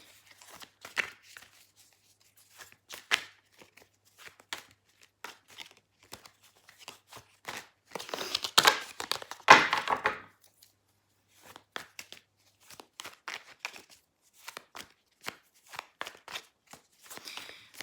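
A tarot deck being shuffled by hand: scattered soft riffles and card slaps come in short, quiet bursts, with a busier flurry midway through and no talking.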